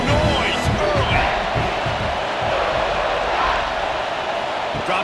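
A Clemson versus South Carolina football crowd roars steadily in the stadium with dense cheering and a rumbling background.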